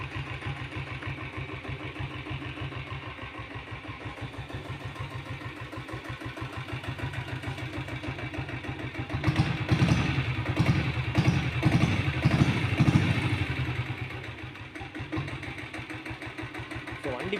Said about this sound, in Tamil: ஸோ வண்டி பீட்டில் தெளிவாக இருக்குது கேட்குறக்கலாமே.